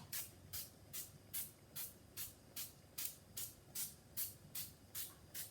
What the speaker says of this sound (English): spray each one with a bit of fry light just for a bit of colour